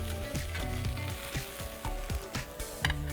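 Watermelon slices sizzling on a hot grill: a steady, close crackling hiss with small repeated pops and scrapes, no voices.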